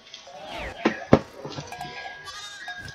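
Sheep bleat in Spyro Reignited Trilogy, a few short wavering calls over game sounds and music, with a loud thump near the middle.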